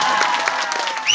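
An audience claps steadily at a Bihu stage program in Morigaon, a dense patter of applause filling the space.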